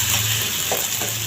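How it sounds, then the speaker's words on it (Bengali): A spoonful of ginger fries with browned onion in a pan, giving a brief, close, steady sizzle as it is stirred. "এখন আমি আদা দিয়ে দিব 1 চামচ। এখন আদাটা ভালো করে কষাইতে হবে।"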